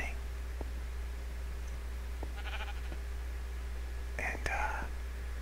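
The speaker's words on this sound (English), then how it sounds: "which is why we're hearing those sheep" Quiet sheep bleats from the Minecraft video game sound faintly in a cave setting, two short bleats near the end over a steady low hum and soft whispered talk.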